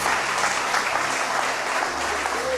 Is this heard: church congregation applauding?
yes